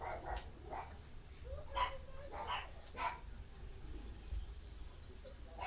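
Dogs bark in the video game Scarface: The World Is Yours, several short sharp barks at irregular intervals, somewhat distant and faint over a steady background hum.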